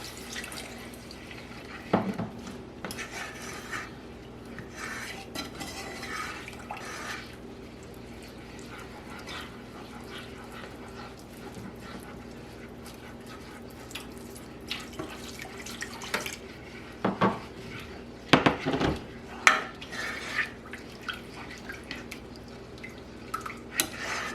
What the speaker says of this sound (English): Now I'm going to add a little bit of the broth.